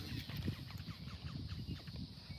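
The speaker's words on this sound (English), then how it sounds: "Oh look, there's a chicken." A chicken on grass near the water, heard as a series of soft, irregular clucks and fowl calls at a moderate distance over faint background noise.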